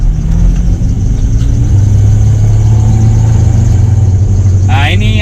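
A 1994 Jeep Cherokee Limited with the 4.0 engine runs at a steady idle, a continuous close drone with a faint fan-belt whine from a worn belt and tensioner at the front, and a brief rattle near the end.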